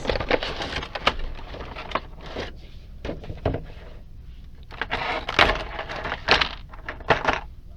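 Nightmare Before Christmas action figures pulled from their packaging, with close crinkling, rustling and sharp cardboard and plastic snaps in irregular bursts, no talking.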